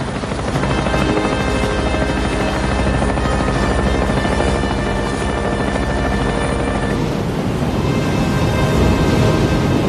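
A Seahawk helicopter in a 1990 naval thriller film flies with a loud, continuous rotor thrum and turbine whine, steady and close for the whole stretch.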